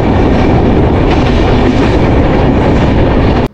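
The Drutojan Express, a Bangladeshi train with non-AC coaches, rumbles along loudly and steadily from onboard, a dense continuous roar of wheels and carriage noise that cuts off abruptly at the very end.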